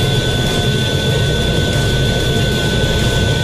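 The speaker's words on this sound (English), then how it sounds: "To break the sound barrier, this FA-18 Super Hornet must reach at least 767 miles per hour" An FA-18 Super Hornet fighter jet flying at high speed makes a loud, continuous roaring rush with a steady whine, unbroken throughout and with no voices.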